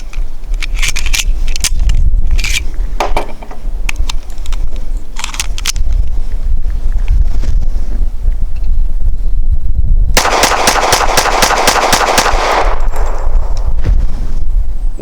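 American Classic Commander 1911 pistol fired in a quick string of sharp, loud shots with a full magazine, the reports spaced irregularly and ringing out in the open, then a dense burst of rapid shots near the end.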